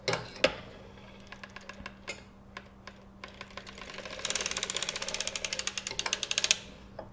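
Circular sock knitting machine being cranked back with two needles raised, scattered clicks at first, then a fast even run of ratcheting ticks, close and quiet, no talking.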